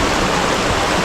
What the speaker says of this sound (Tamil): நல்ல தண்ணி ஓடிக்கொண்டிருக்கிறது